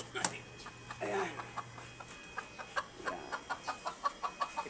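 Labuyo junglefowl hens clucking close by, a steady series of short, evenly spaced clucks that grow more regular toward the end, over faint background noise.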